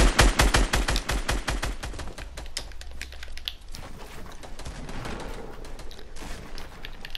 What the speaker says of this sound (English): Not with a sniper, with an AR. Yes, just keep shooting. Just keep shooting him.